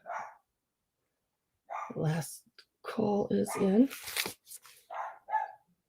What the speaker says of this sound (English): Puppies are barking.